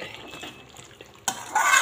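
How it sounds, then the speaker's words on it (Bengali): Boiled goat meat is stirred and fried in a pan, a utensil scraping the metal before a louder sizzling rush takes over near the end. "মাংসটা একটু ভাজা ভাজা করে নিলাম, সিদ্ধ হয়ে গেছে।"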